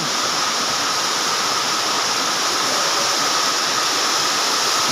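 Rainy-season runoff water rushing and flowing, a steady, loud broadband roar that stays constant throughout with no voices.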